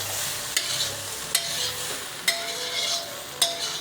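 Dry masala spice mix fries and is stirred in a pan for Delhi-style chole, a close, steady sizzle punctuated by four sharp, evenly spaced spoon clicks against the metal.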